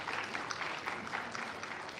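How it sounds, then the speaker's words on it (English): Faint, distant audience clapping at a diabetes awareness and fundraising event in Adelaide, a steady patter of many hands throughout the short moment. "So I would like to request you to please clap for the youth team"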